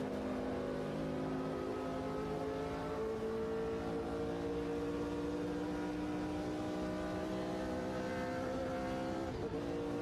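A 1960s Formula 1 race car engine in Automobilista 2 drones steadily at high revs, its harmonic whine slowly climbing and holding for the whole stretch, with a brief dip near the end.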